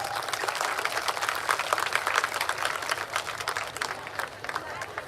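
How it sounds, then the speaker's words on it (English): An audience claps loudly and continuously at a school annual prize day, a dense, even wash of many hands with a faint murmur of crowd noise beneath. "She deserves a loud applause."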